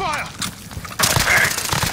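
Video game gunfire crackles in a tight burst, quiet at first and then jumping to loud rapid shots about halfway through, with brief voices mixed in.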